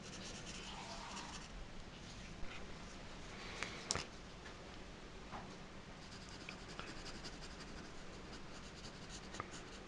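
Soft, continuous scratching of a pencil moving across textured paper, with occasional small taps and strokes, close and quiet.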